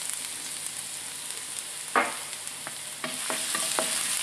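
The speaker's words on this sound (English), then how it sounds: "So we start off by frying our ginger." Ginger frying in a pan over medium heat, a steady sizzle under scraping stirs, with a sharp utensil clatter near the middle and several quick taps and scrapes toward the end.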